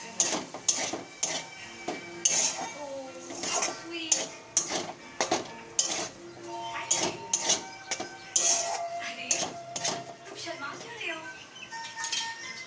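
Fish being stirred in a cooking pan, with repeated metallic clanks and scrapes of a utensil against the pan in an uneven rhythm, close and fairly loud throughout.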